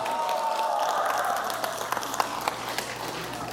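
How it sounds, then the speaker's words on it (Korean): A crowd applauds at a lifelong learning showcase opening ceremony; the clapping grows into scattered, sharp claps after a sustained tone fades out. "박수가 다시 한번 필요합니다."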